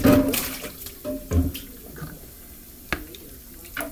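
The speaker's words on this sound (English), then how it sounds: "Got some dishwater over there. That's why it's what you hear." Water runs and splashes in a sink with clinks and bumps of dishes, steady and nearby, no talking.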